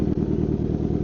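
Kawasaki Z900 motorcycle engine running steadily close by, a dense low rumble with a throbbing, slightly clattery pulse and no voices.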